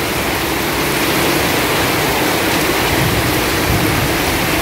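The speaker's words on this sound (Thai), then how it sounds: "ทั้งลมทั้งฝนมาแล้วครับเป็นระลอกเลยครับ" Heavy rain and wind storm lashing Hat Yai, a dense, loud, continuous roar of downpour and gusts with no pauses, close and enveloping, with no voices.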